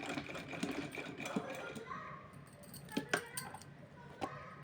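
A sewing machine stitches lace onto a small Laddu Gopal dress, its faint, busy whir mixed with light clicks and rattles, with a few sharper taps toward the end, all quiet and close.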